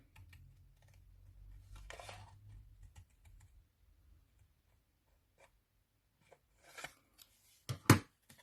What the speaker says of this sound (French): je vais prendre ma paire de ciseaux